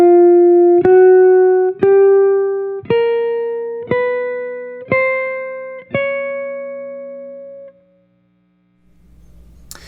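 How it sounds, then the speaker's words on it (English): A clean-toned jazz guitar plays a rising chromatic scale pattern over essential chord tones in six evenly spaced, ringing single notes that step upward and fade out, heard close and alone. "there's a very simple chromatic scale pattern that we can use over these essential chord tone"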